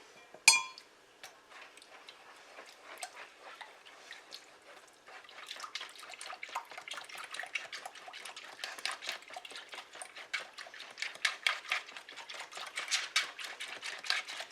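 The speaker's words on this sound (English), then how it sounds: "we're just going to mix this up till the ingredients combine" Cherry pie ingredients are stirred together in a bowl with a whisk, a soft, continuous run of light clinks and wet taps that starts faint after one sharp knock and grows busier and louder.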